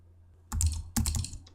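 Two quick presses of a keyboard shortcut on a Mac keyboard, sharp and close, each with a short clatter of keys.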